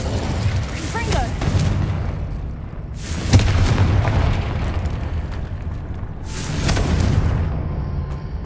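A fiery Confringo explosion spell in the video game Hogwarts Legacy, with two heavy booming blasts a few seconds apart, each a loud broadband burst that rolls away over a constant rumbling game background.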